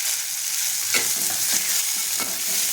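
Finely chopped onion and tomato fry in hot oil with whole spices, making a loud, continuous sizzle. Several spatula stirring strokes break through it, and no one speaks.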